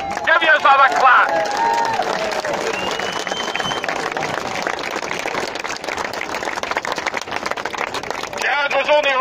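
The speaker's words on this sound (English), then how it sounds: "Give yourself a clap." A crowd at an outdoor rally outside Parliament breaking into dense, sustained applause, many hands clapping together, with some cheering and babble in the mix.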